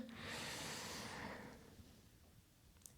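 One deep, airy inhalation during yoga breath retention, loud and close through the nose for about a second and a half, then easing into quiet.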